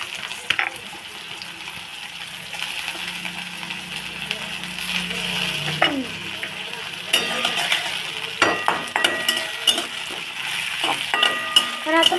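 Finely chopped tomato frying in a pan while being stirred, a soft sizzle beneath scraping and clinking of a spoon that grow busier toward the end, with some water-like splashing.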